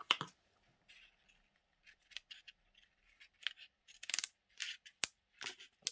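Scissors snip through bulky paper layers on a glued collage: a scattering of short, crisp cuts close by, separated by quiet pauses, with a cluster of quicker snips toward the end.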